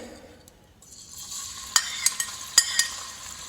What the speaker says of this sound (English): I am going to add the bacon to it